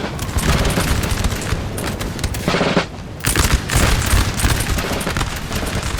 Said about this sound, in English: it's just musketeers shooting at cavalry